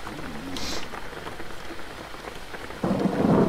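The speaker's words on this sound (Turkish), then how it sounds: "Ve yağmur başladı." Steady rain hisses down in the video game Jalopy as a storm sets in, with low rumbling beneath and a heavier downpour swelling in near the end.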